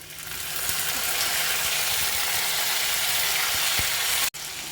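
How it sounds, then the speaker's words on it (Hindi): Onions, cashews and tomatoes frying in a pan for chicken curry, a steady, close, dense sizzle with occasional soft stirring taps and a brief break near the end. "लो फ्लेम पर हमें टमाटर को अच्छे से गल जाने तक हम इसी तरह से फ्राई करेंगे इसे"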